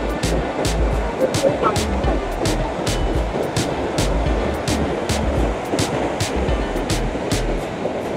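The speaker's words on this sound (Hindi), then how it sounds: "लहरें जो हैं वो बुलंद हो रही हैं" Sea waves washing onto Hawks Bay beach in Karachi, a continuous broadband surf roar close by, with regular sharp gusty bursts that may be wind buffeting the microphone.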